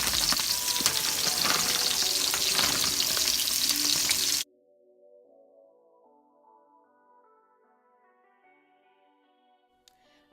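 Frozen red skin roasted potatoes and green beans sauté in a pot with a loud, close, steady sizzle for about four seconds before it cuts off to near silence with faint tonal sounds.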